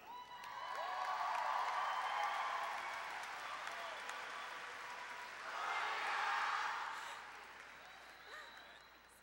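Audience applause welcoming the Class of 2015 valedictorians to the podium at the Marysville Getchell graduation, a broad sustained wash of clapping across a large crowd that dips briefly, then swells again before fading toward the end.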